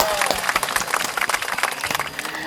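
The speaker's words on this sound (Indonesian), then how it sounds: "tepuk tangan dulu dong buat keduanya dan ekskul pencak silat" School audience applauding a pencak silat extracurricular club after their demonstration, dense crowd clapping with sharper individual claps standing out, fairly loud and sustained, with faint voices underneath.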